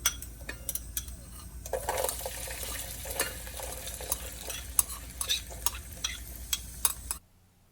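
Rice, green peas and salt stirred together in a rice cooker pot, a spoon scraping and clinking steadily with a soft sizzle underneath, close by with no talking, ending abruptly.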